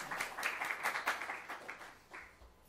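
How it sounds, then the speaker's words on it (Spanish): An audience at an academic research conference claps for a speaker, a moderately distant round of applause that swells and then tapers off. "creo que se merece un aplauso tanto el doctor como la participación de ustedes"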